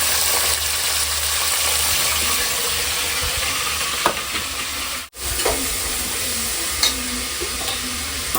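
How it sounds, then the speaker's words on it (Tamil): Onions sautéing in a pan, a loud steady sizzle with stirring scrapes and a couple of spoon taps, briefly cutting out for a moment midway before resuming. "வெங்காயமும் போட்டாச்சு வெங்காயமும் நல்லா வதங்கட்டும்"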